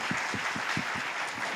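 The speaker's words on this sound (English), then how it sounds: "Let's give them a big round of applause." A conference audience applauds the panelists of an Indo-Pacific security forum, a dense steady wash of many hands clapping at once, loud and sustained without voices.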